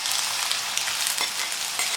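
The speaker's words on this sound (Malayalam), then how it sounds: "ഇപ്പോൾ വെളിച്ചെണ്ണ നല്ലതുപോലെ ചൂടായി വന്നിട്ടുണ്ട്. ഇതിലേക്ക് നമുക്ക് അരിഞ്ഞു വെച്ചിരിക്കുന്ന ഇഞ്ചി ഇട്ട് കൊടുക്കാം" Chopped ginger frying in hot coconut oil, a loud continuous close sizzle with a bright hiss and faint crackling, steady throughout.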